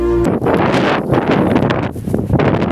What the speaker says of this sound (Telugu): విపరీతమైన గాలి ఇప్పుడు గట్టిగా వస్తుంది